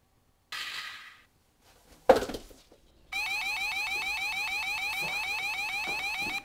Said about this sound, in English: I'll sound the alarm.